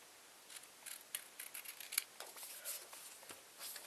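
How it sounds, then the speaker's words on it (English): Scissors snipping through a strip of paper while assembling a paper-and-staple rainbow craft, a quiet series of short, crisp cuts spaced irregularly over a few seconds, close by with no talk. "Then you just cut this one off."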